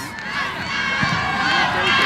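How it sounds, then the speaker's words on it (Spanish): Football supporters of Ascao chant during the second half of a league final in Madrid, a steady, loud crowd roar of voices filling the stadium. "Ascao, Ascao es el grito de su afición"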